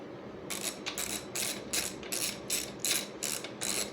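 A DEWALT mechanics kit socket wrench ratchet clicks in quick, crisp bursts as it tightens, about eight evenly spaced strokes heard close up with no talking.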